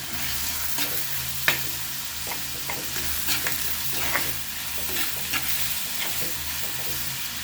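Tomatoes sizzle in a pan of mutton curry, a continuous frying hiss broken by repeated sharp clicks and scrapes of stirring at an irregular pace, close up with no voices.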